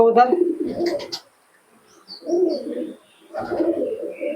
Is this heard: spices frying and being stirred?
no